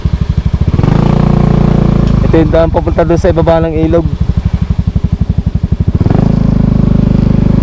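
A motorcycle engine putters steadily up close on a rural trail in Batangas City, Philippines, its rapid thumping beat rising briefly as it revs, while someone talks over it.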